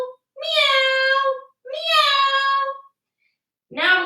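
Children's voices imitate a cat's meow during a kids' animal yoga cat pose, giving two long, loud drawn-out meows followed by the start of a third after a short pause.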